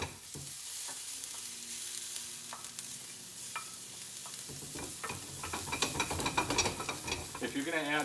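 Garlic sizzling in butter in a pan, a soft hiss that grows busier and louder toward the end, with intermittent utensil clinks and scraping, close and without voices.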